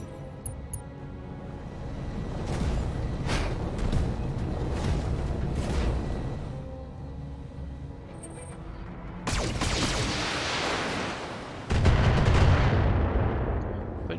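Mech weapons firing in the BattleTech video game: heavy booming cannon shots and explosive bursts in irregular volleys over a rumbling battle bed, growing louder toward the end.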